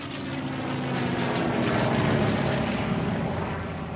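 Piston engine of a P-51 Mustang fighter plane, a steady loud propeller drone holding constant throughout without any voices.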